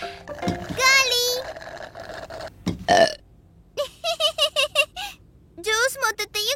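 A cartoon character burps loudly in a kids' animated show, a long belch followed by a short gulp, then a series of squeaky, stuttering hiccup-like burps, with a voice speaking at the start.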